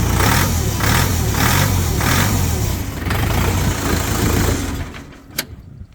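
A Chinese engine on a Terra Force 455L four-wheel-drive mini tractor runs steadily nearby with a loud, rhythmic pulsing idle that fades slightly near the end.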